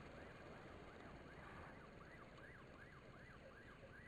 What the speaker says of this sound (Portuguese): outra ambulância, meu Deus do céu